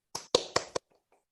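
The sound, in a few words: applause, clapping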